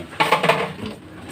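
Plates and dishes knocked and shifted by hand during an outdoor seaside meal, a few clattering hits close by then softer rattling.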